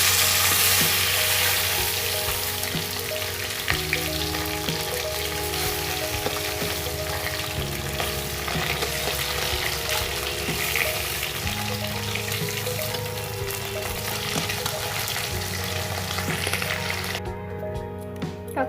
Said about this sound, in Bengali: টকের মাছগুলো আমি হালকা করে ভেজেছি।